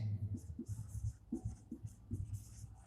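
Chalk or marker writing on a board during a Class 10 physics lesson on electromagnets, a run of short scratchy strokes in an uneven rhythm, close and fairly quiet, with no voice over it.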